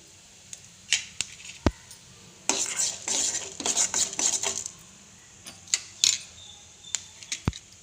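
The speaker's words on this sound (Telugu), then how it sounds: "జీలకర్ర వేసుకోవాలి ఉద్దిపప్పు కాస్త వేసుకొని వేయించుకోవాలి" Cumin, urad dal and fenugreek seeds fry in a pan for a ridge gourd peel chutney, with a light sizzle, a busy stretch of stirring and scraping, and scattered sharp metallic taps of a spoon against the pan.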